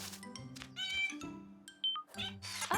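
A cartoon kitten in a kids' construction-site show lets out several high, bright meows, some drawn out and wavering, up close and alone amid light chimes and playful effects.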